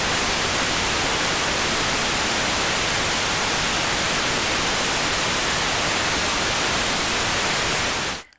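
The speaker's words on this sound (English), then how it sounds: "let's turn on the pink noise." Pink noise test signal generated in FL Studio, a dense, even hiss across the whole range, loud and unchanging for about eight seconds before cutting off abruptly.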